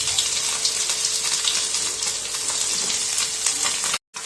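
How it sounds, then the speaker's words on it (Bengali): Vegetable chops fry in hot oil in a wok, giving a loud, continuous, dense sizzle with crackling bursts close up, uninterrupted until a brief cut near the end. "কড়াইতে আমি তেল দিয়ে দিয়েছি, এবার চপগুলো আমি ভেজে নেব, ভেজিটেবিল চপগুলো।"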